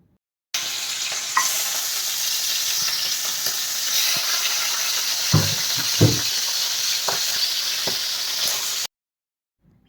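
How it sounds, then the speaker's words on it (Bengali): Loud, continuous sizzling of fish heads frying in oil, with a few dull knocks from a pan partway through, ending in silence. "এটাকে আর কি ভালো করে চষের তেলে ভেজে নিতে হবে"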